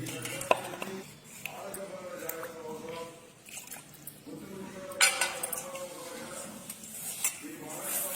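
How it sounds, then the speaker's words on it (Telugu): Sour curd being stirred into a semolina batter with a spoon, giving faint wet mixing sounds with soft clinks of the spoon against the bowl at a quiet, close distance. "ఈ పుల్లటి పెరుగును ఈ రవ్వ మిశ్రమంలో వేసి బాగా కలపాలి"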